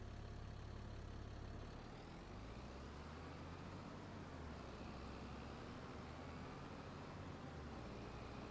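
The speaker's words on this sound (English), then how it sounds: "Tractor with the milk trailers back." Tractor hauling milk trailers in the Farming Simulator 22 video game, a steady low engine drone that rumbles on evenly, with no talk over it.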